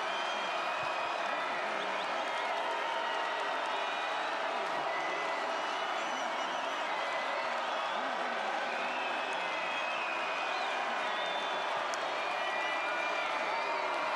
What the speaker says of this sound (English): Crowd on his feet, 3rd and 6.